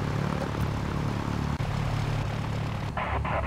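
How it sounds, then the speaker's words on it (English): A Cessna 172 SP light propeller airplane's engine drones steadily and loudly from inside the cockpit, a constant close hum with a brief dip partway through. "let's just take off in this Cessna"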